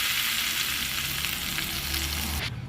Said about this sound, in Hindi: अब मैं इसे लगाऊंगी तड़का